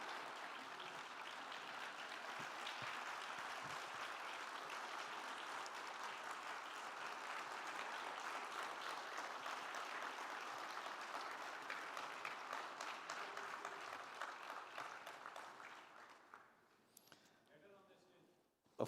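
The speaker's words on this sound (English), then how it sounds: "So I would request a loud round of applause for the mom who brought her" Sustained audience applause at an international professional seminar, a dense, even wash of many hands clapping that continues for several seconds before fading out.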